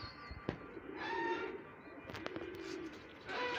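A flock of pigeons taking off together: a soft flurry of fluttering wingbeats with a few sharp claps of wings, faint and somewhat distant, with light bird calls.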